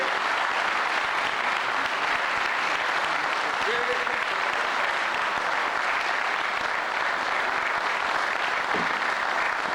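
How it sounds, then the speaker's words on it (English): Warm, sustained applause from a crowd welcoming a regional minister onto the stage, dense and loud throughout, with scattered voices and cheers under the clapping. "I want to bring on the regional minister here in the Mid-Atlantic region with a warm round of applause"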